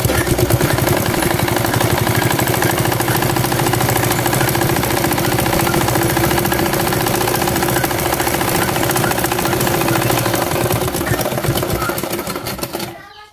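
A sewing machine runs steadily while stitching a fabric school crossbelt, giving a loud, continuous rapid mechanical chatter that lasts several seconds close up before slowing and stopping at the end, with no talking over it.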